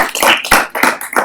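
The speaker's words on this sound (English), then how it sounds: "I think we could have a round of applause and close out." Audience hands clapping at the close of a talk, a few loud, irregular claps standing out near the microphone rather than a full, dense ovation.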